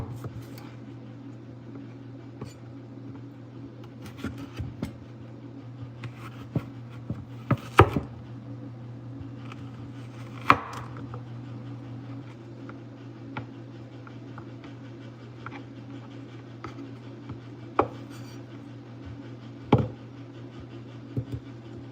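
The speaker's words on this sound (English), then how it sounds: "I really struggled with my old knives cutting scallion." A knife chopping scallions on a cutting board, sparse sharp taps at irregular intervals over a steady low hum, quiet and close with no clear talk.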